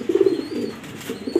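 Uncommon Mili pigeons give a quick pair of low, throaty coos close by, short and soft, with no voices.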